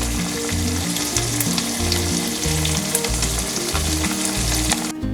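Tofu and bell peppers stir-fry in a pan, a steady loud sizzle running throughout with no pauses, with low rhythmic background music beneath it.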